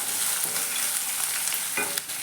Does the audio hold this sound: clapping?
no